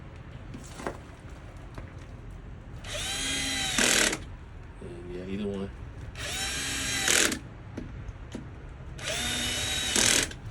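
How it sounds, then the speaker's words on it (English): Cordless power drill driving fasteners in a star pattern on a plastic press fitting for a leaking spa, three loud sustained whirring bursts with clutch ratcheting and slipping at the end of each, a brief voice between them. "The drill slipping."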